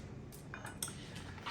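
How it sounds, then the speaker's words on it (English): A knife chops on a cutting board while corn salad is prepared with fresh corn, cucumbers, tomatoes and red onions. A few light, irregular knocks and clinks sound close by over a steady background hiss. "we're gonna start chopping for our corn salad"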